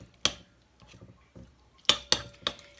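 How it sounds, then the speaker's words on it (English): Peanut butter being stirred into muffin batter for ginger brittle muffins, heard as a few sharp clinks and scrapes of a utensil against the bowl, with quieter rubbing between them. "I'm just going to stir this in"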